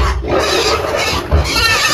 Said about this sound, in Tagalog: ito po yung pakain natin sa 10 mga baboy